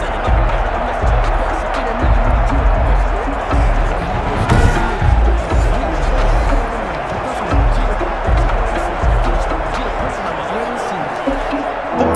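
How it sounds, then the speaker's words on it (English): Stadium crowd in the Madden NFL 21 video game during a Kansas City Chiefs versus New York Giants match, a dense roaring din that swells steadily, with a commentator talking over it throughout. "That just means this crowd's going to get even louder"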